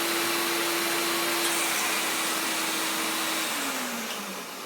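A vacuum cleaner, an older and not very powerful machine, runs in a steady loud roar with a constant motor whine, its pitch dipping slightly near the end as it strains, with no speech.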